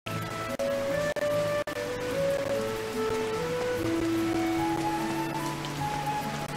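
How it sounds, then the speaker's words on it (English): Steady rain falls in the video game Kitaria Fables, a constant wash of hiss and patter at moderate level with faint background music tones drifting over it and a few brief dropouts. "Oh, that's rain!"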